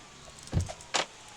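A car door thudding shut as someone gets in, with a heavy low slam followed by a second sharper click or latch a moment later, close and brief in a quiet setting.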